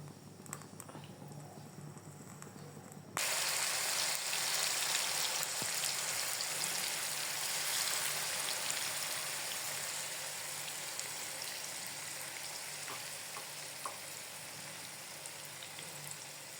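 Chicken pieces drop into hot oil and the frying abruptly swells into a loud, dense, steady sizzle and crackle that continues close by, with no talking.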